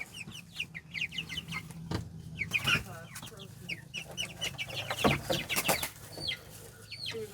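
French Black Copper Marans pullets on pasture cluck in a steady, overlapping chatter, close by, with occasional louder squawks and a low background hum.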